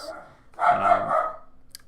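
A dog barks at another dog in a short, close burst of two or three loud, rough woofs, with no talking over it.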